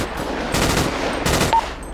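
Rapid bursts of gunfire inside a building, loud and close, with two dense volleys of shots and a brief tone near the end.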